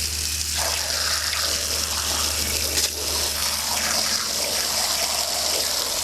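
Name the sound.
rinsing the aquarium maintenance unit with water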